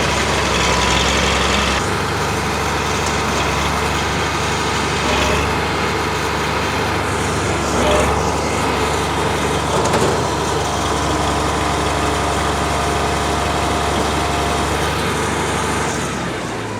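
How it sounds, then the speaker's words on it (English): A tractor's power take-off drives a hay baler, a steady loud engine drone with a low rumbling idle underneath, holding constant throughout with only slight swells in mechanical noise. "Let's kick the PTO back on."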